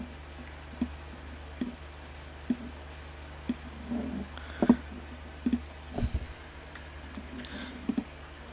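Computer mouse clicks, a handful of crisp, separate clicks spaced irregularly over a quiet background, close and fairly faint.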